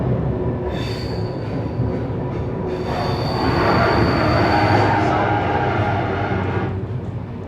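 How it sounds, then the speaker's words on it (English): A Sydney M-set electric passenger train passes close by, with a loud continuous roar of wheels on rail, high squealing tones and rising rumble that swells mid-pass and stays heavy throughout. "An M-set just passed by, didn't catch the set."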